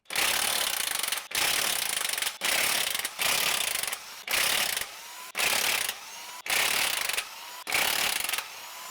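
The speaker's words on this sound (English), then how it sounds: "I like to use a 1/2-inch impact as well." A 1/2-inch impact wrench hammers out Porsche 911 flywheel bolts, loud and close, in seven or eight sharp rattling bursts of about a second each, separated by short pauses.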